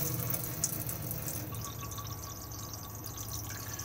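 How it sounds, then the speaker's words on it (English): Water runs steadily from a tap in a 2020 Elddis Majestic 115 caravan with the onboard water pump switched on, a continuous rushing flow throughout with no talking. "We need the water pump on so we can get water out of the taps."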